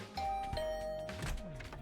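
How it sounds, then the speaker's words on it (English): A doorbell chimes in the Hundred Line Last Defense Academy video game: two clear, sustained electronic tones in succession, ringing out alone with a soft thunk beneath. "I rang Gaku's doorbell."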